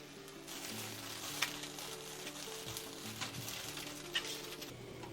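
Tomatoes and serrano chiles roast on a hot griddle, giving a steady, quiet sizzle with faint pops and crackles and no talking.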